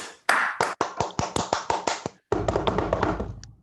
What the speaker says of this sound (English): welcome our guests with a thunderous round of applause